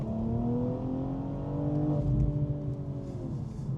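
A stage 2 tuned BMW M240i xDrive accelerates hard in second gear on damp roads, its engine note rising steadily and loud, close up with no talk.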